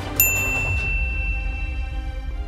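A bright notification bell ding rings once near the start and then decays in a long, ringing tail over a low background hum.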